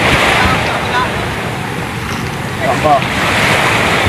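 Steady rush of brown, muddy sea waves and surf after a typhoon, with heavy wind buffeting the microphone; a voice briefly speaks over the noise.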